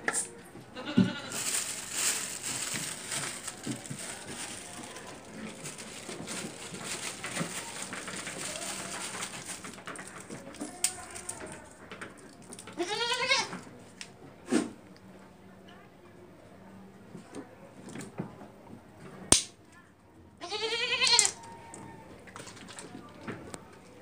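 Goats bleat repeatedly during a vaccination session, several wavering calls rising over a background of voices, some near and loud, others softer.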